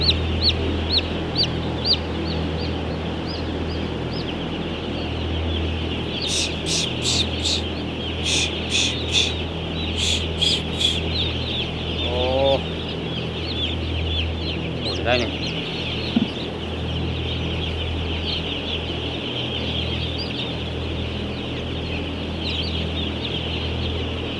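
Chickens cluck steadily in a farm setting, with bursts of sharp repeated calls and occasional louder squawks over a constant background hum, fairly close and continuous.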